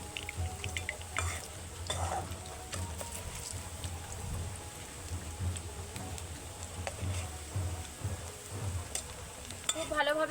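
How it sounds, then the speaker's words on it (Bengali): Sapodilla frying gently over a low flame while it is stirred, a soft steady sizzle with occasional scraping and clinks of a utensil against the pan, fairly quiet and close. "তার জন্য কিন্তু হালকা আঁচে ভাজতে হবে আর অল্প সময়ে এটাকে নেড়ে রাখতে হবে।"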